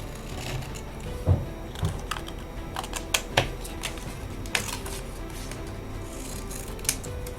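Scissors snip through paper in a series of crisp, irregular cuts, close up, with faint handling rustles between snips and no talking.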